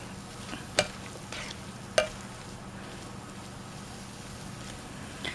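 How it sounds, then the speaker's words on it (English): Taco filling of cooked ground beef being stirred in a pan with onions, peppers and corn, a low steady sizzle punctuated by two sharp scraping clinks of the utensil against the pan. "Get it mixed in with all of the onions and peppers and corn."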